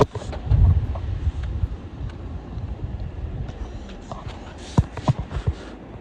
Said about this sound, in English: here comes a Class 717 to Welwyn Garden City